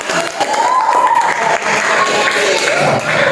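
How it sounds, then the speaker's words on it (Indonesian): Classroom group applauding on cue, loud, continuous clapping with crowd noise and a voice mixed in throughout the short burst. "tepuk tangan dulu semuanya"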